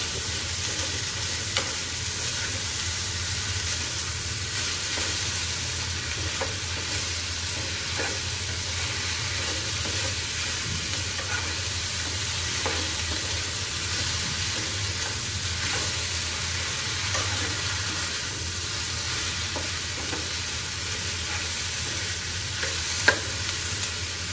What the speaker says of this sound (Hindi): अब डाल दी भिंडी और कर देते हैं मिक्स इनको।